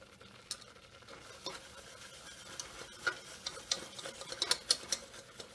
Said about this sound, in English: As you add in a slow stream, keep whisking to make sure there's no lumps.